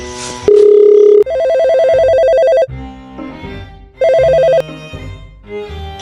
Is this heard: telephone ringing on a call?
yes